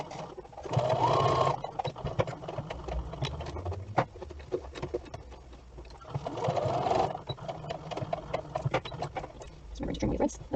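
A sewing machine stitches down a zip-up front garment just past the pocket in short bursts of rapid, close-up whirring and clatter, separated by quieter handling noises.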